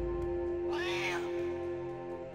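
A single drawn-out, cat-like meow from a Muggy creature in the Banjo-Tooie video game rises over a steady backdrop of game music.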